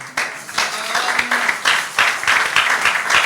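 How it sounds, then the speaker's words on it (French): Church congregation at a Sunday service applauding and cheering for themselves, a dense, steady wash of many hands clapping with some voices mixed in, fairly loud throughout. "Voilà pourquoi je vais vous appeler à vous acclamer pour vous-même."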